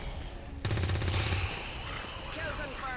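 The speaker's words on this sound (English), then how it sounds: "A shot." A rapid automatic gunfire burst in the video game XCOM 2, a loud stuttering volley of close shots lasting under a second, followed by fading game effects and faint chatter.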